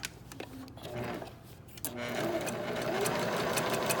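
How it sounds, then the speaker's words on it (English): A domestic sewing machine stitches cotton fabric on the back of a 9-patch pillow, a close, steady mechanical whirr that starts in short bursts and then runs continuously. "I can just keep sewing."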